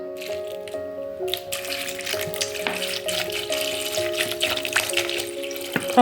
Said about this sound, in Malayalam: പിന്നെ കുറച്ച് വെള്ളം വാർന്നു കൊടുക്കാം കേട്ടോ.